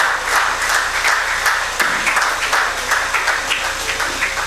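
An audience claps steadily and loudly in an indoor hall to welcome a speaker, a dense, continuous round of applause with no talking over it.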